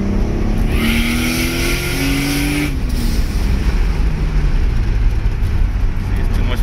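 A close, loud Lexus SC300 engine, a turbocharged 2JZ-GTE VVT-i with a BorgWarner turbo, revs and climbs in pitch, shifts, then pulls hard again with a throaty roar.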